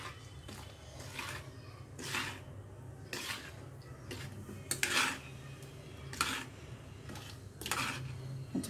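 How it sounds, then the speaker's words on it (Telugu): Ingredients for dosakaya pachadi, a Telugu cucumber chutney, being mixed in a bowl, giving repeated clinks and scrapes of a utensil against the dish in an irregular rhythm, close but fairly quiet, with no talk. "ఇప్పుడు వీటన్నిటిని కలుపుకుందాం ఫ్రెండ్స్."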